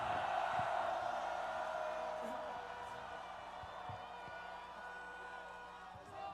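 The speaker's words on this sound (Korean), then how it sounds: "두 분을 향해 큰 박수" A crowd at a political rally cheers and applauds for two people, a broad, steady wash of clapping and whoops that starts loud and slowly fades, with voices mixed in.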